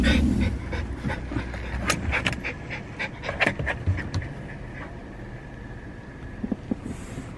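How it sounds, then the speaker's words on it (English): Two dogs panting steadily up close with occasional soft whimpers, over a low rumble of a moving vehicle and faint background noise. "Oh, the two dogs."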